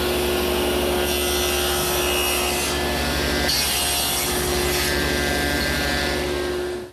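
Table saw cutting a wood workpiece held against a miter gauge stop, a steady motor hum under a rough, grinding cut that rises and eases in a few passes before winding down at the end.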